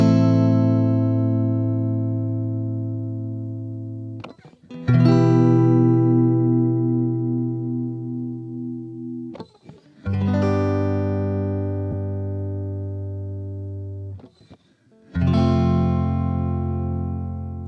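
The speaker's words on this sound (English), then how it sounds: "It's a very nice sounding guitar" Clean, dry electric guitar with no effect applied, playing four strummed chords that each ring out and slowly decay, with brief pauses between them, close and clear.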